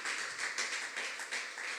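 Congregation clapping in a church, a faint, steady patter of many hands close together, with no speech over it.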